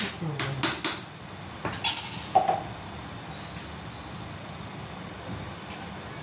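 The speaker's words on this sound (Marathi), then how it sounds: "हे बारीक झालं असं तिळगुळ बारीक केलं." Tilgul of sesame and jaggery being pounded fine, a series of sharp metallic knocks and clinks in quick clusters early on, then fading to quiet room tone with a few faint taps.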